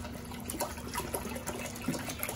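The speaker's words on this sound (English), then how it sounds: "you want to fill your pot about halfway full" Tap water runs into a cooking pot being filled halfway with spring water for making bubblegum wine, a steady close splashing stream with small gurgles and no voices.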